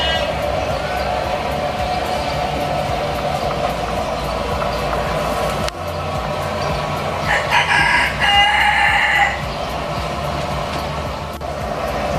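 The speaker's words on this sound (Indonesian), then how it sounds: "Ya, ayam kate anak-anak." Bantam chickens at a small agritourism farm, crowing and clucking amid a busy, noisy background, with a louder burst of crowing partway through and a voice talking faintly.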